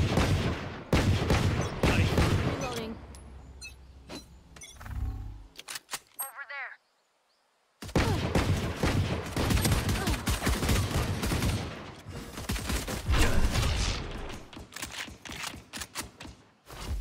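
Rapid bursts of gunfire from the Valorant game, dense and loud, sounding repeatedly under someone talking, with a brief silent gap midway.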